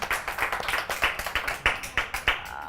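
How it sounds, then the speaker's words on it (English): A small audience claps for a guest on a fashion talk show, a fairly close, sparse patter of individual claps with distinct, uneven beats. "Can we clap for her?"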